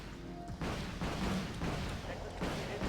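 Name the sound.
ship firing missiles in Wargame Red Dragon video game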